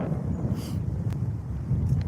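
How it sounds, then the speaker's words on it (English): Low, buffeting rumble of wind hitting the microphone, continuous and close, with faint gusty hiss above it. "I'm like trying to hide the wind from here. It's like so windy."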